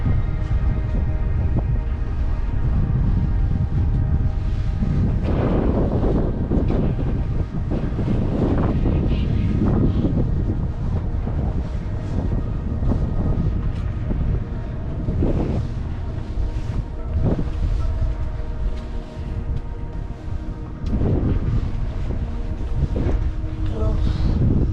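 Strong wind buffets the microphone at Hoover Dam in a steady, loud roar with gusty low rumble throughout, drowning out any other sounds.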